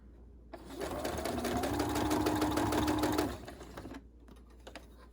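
A sewing machine stitches a fabric face mask from a take-and-make kit, running in a steady, fast mechanical whir for about two seconds at close range, with quieter handling noise before and after.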